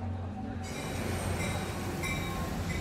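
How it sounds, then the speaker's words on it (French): Subway train in the film Moonlight rumbling steadily, with a low continuous roar of the carriage and faint metallic wheel squeal rising partway through, no talk. "Plutôt que de rentrer chez lui la nuit, Chiron erre dans le métro, s'y endort même."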